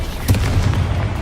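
The Bombarda blasting spell cast in Hogwarts Legacy, a single short booming burst with a sharp onset followed by a brief rumbling tail, loud and close, with no talking.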